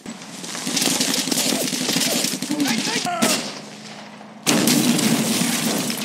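Dense gunfire and explosions roar through a war film battle scene in an urban setting, with continuous bursts and blasts, a brief lull, then a loud renewed barrage.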